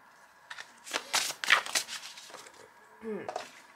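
Tarot cards being shuffled by hand: a few close, papery riffling bursts and soft slaps, with a brief voice heard near the end.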